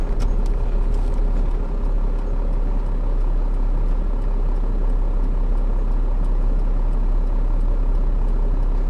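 A 12-valve Cummins diesel truck engine with fuel modifications runs at wide open throttle, a loud, steady, deep drone holding constant for the whole stretch with no pauses or voices.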